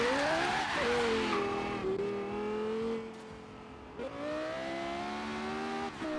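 A racing car engine in a Forza racing video game revs and drones steadily, pitch rising and settling through gear changes, with a brief tire squeal, loud and close.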